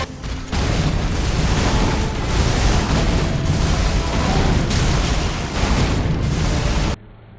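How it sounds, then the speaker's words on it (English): Radahn's huge area-of-effect explosion in Elden Ring erupts as a sustained roaring boom, loud and dense for several seconds before it cuts off abruptly. "there's going to be this big AoE explosion once he brings his swords out of the ground"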